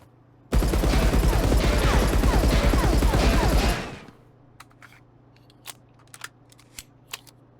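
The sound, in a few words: Uzi submachine gun firing while aiming, video game Marauders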